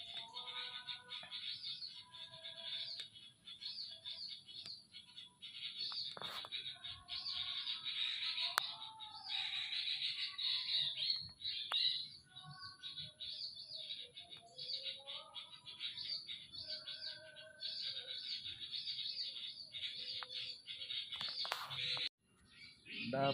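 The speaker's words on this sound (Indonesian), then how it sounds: "dapat burung satu ceruk-ceruk." Ceruk-ceruk birds call repeatedly during a bird-trapping outing, with dense chirping and whistled phrases running throughout at moderate distance and occasional faint murmured voices.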